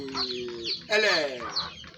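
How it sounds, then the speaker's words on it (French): Goliath breed hen clucking close by in a loud, brief burst of squawky calls, with a person talking over it. "Donc ça, c'est une poule Goliath."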